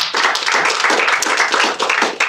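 Crowd clapping at a digital economy policy guide launch event, brisk close applause with distinct hand claps in a steady stream, fairly loud and without speech.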